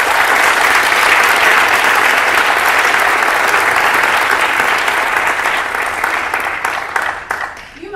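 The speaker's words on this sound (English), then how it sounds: "So if we can give them a round of applause." Loud, dense applause from the audience follows a student devised theater performance at a Virginia Governor's School, holding at full strength before thinning and fading in the last second.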